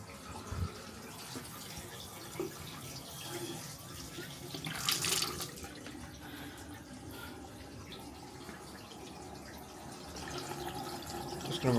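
Two cold water taps at a basin run steadily to drain the tank during a tap change, giving a continuous rushing flow with a brief louder splash partway through.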